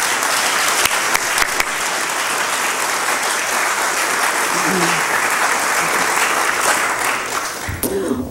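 A lecture audience claps steadily to welcome a speaker to a talk on contemporary American politics, a full, even wash of applause lasting about eight seconds before fading as a voice begins.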